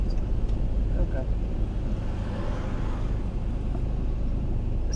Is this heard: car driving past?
yes